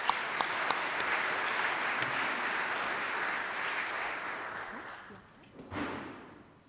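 An audience applauds to welcome a speaker named Josh at a gathering, a dense wash of clapping that fades gradually over several seconds, ending with a brief thump and some shuffling.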